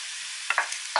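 Onions and leeks frying in a pan with a steady hiss, broken by a few short stirring scrapes, close and alone with no voices.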